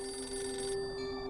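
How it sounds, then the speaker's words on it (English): A telephone rings in a coroner's home in New York State in 1986, a steady electronic tone with bright high harmonics sustained through the clip, fairly loud and alone, with no talk. "when the phone rang"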